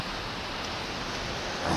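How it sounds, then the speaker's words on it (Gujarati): Steady rain falls during the monsoon season, a dense, even wash of hiss with no distinct drops, close and fairly loud, with no voices. "વરસાદ બરાબર ચાલુ છે"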